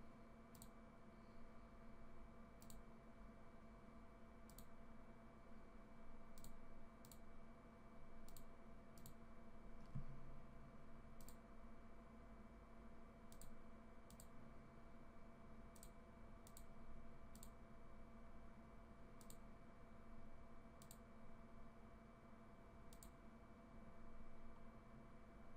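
Faint, sharp computer mouse clicks come at irregular intervals over a steady electrical hum as someone clicks through Photoshop layer style options, with no talking.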